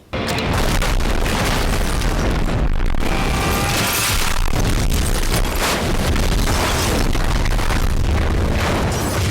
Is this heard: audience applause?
no